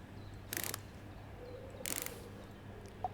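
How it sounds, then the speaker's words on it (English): Screws being put back into a device in the Electrician Simulator video game: two short, crisp mechanical clicking rattles about a second apart over a quiet background, with a tiny tick near the end. "Let's pop these screws back in."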